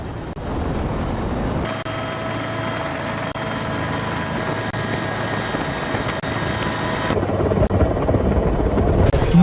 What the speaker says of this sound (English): A Bell 412 helicopter was used in the mission.